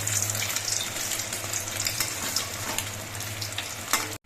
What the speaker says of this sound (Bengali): এইভাবে আমি সবগুলো পাউরুটির পিসি ডিমের এই মিশ্রণের মধ্যে ডুবিয়ে নিয়ে ভেজে নিচ্ছি